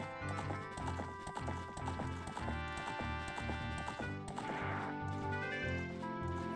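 A horse gallops across Hyrule Field in the Ocarina of Time Spaceworld 97 build, its hooves sounding as a steady clip-clop rhythm under loud, sustained game music.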